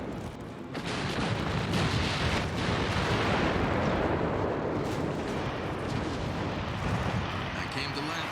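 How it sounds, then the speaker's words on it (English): Warship guns in the Ultimate Admiral: Dreadnoughts naval game, a dense, sustained roar of heavy gunfire and booming blasts that starts abruptly after a quiet moment and continues loudly to the end. "All guns open fire."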